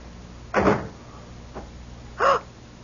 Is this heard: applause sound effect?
no